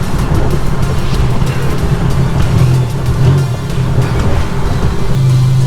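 A turbocharged Nissan 300ZX engine drones loudly and steadily from inside the car while driving, with a deep, continuous rumble that rises and falls slightly in tone.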